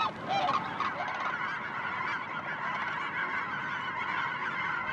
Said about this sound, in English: There's a lot of sandhill cranes out there.